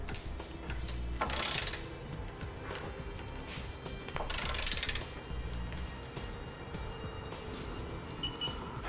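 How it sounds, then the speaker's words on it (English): A ratchet with a 19 mm socket clicks rapidly in two bursts, tightening trailer hitch bolts on a 2015 Dodge Journey, close and crisp, separated by quieter mechanical rattling and handling noise. "tighten down all your hardware with a 19 millimeter socket."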